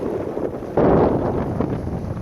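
Strong wind buffets the microphone aboard an O'Day 272 sailboat just out of port, a steady loud roar that swells abruptly partway through, with no voices.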